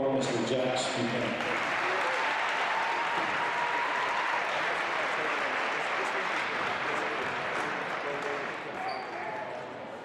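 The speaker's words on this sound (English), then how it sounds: "let's give a big round of applause to all of our senior Gator basketball players, their parents, and families" Sustained audience applause in a gym at a high school basketball senior night, with dense clapping and crowd noise that continues for about ten seconds and tapers slightly near the end.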